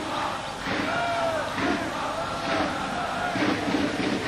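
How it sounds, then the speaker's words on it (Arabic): Spectators at a Libyan league basketball game between Al-Nasr and Al-Murooj cheer and shout in an arena, a constant swelling roar of many voices with rising and falling waves of whoops. "أمامنا الجماهير الرياضية الحاضرة لهذه المباراة، واللي بكل تأكيد تستمتع بأداء الفريقين"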